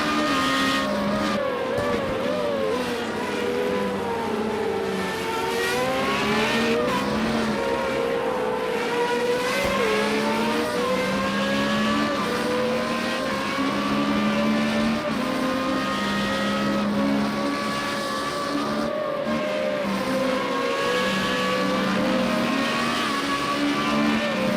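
An FR35 single-seater race car at Oulton Park, heard from onboard: a loud, close engine drones steadily through the lap, its pitch rising and falling with each gear change and corner.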